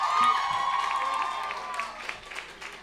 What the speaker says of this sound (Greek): Θέλω ένα μεγάλο χειροκρότημα για τον επισκέπτη μας από τη Φιλανδία